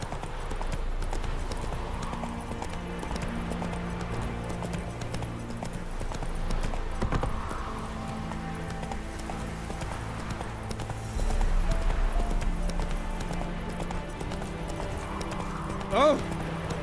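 Horse hooves clip-clop at a gallop in The Witcher 3, a steady rhythmic beat under a man's speech, with a whinny near the end and rising engine-like game music swells across the stretch.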